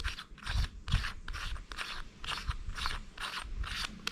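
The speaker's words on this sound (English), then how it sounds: "You unscrew the caps." Turret caps on a Center Point 4-16x40 AO IR rifle scope are being unscrewed, giving a quiet, close series of rhythmic scraping, crunching turns, roughly a dozen in quick succession.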